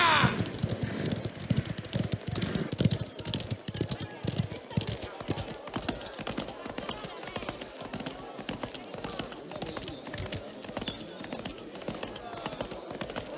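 Rapid rhythmic clip-clop of galloping horse hooves while riding in the video game Mafia: The Old Country, steady and close, running throughout with a voice talking over it.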